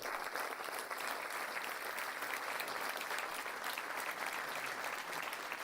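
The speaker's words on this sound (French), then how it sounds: "Je vous demande de l'applaudir." Sustained, even applause from an audience at a municipal New Year's address, a dense wash of many hands clapping continuously at moderate distance throughout.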